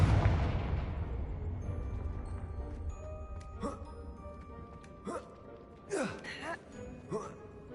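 A Confringo fire-spell blast in Hogwarts Legacy on PS5 opens with a loud, deep burst that rumbles and fades over a few seconds, followed by scattered fainter magical whooshes and pops.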